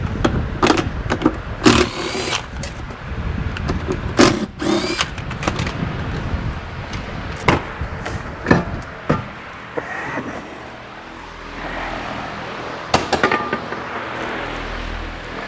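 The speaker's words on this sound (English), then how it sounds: "We'll yank both the driver and passenger seat out." Bursts of a power tool backing out 8mm-head seat bolts on a Bennche Spire 800 UTV, several short whirring runs in quick succession early on, then sparser bursts and a clank amid quieter shop noise.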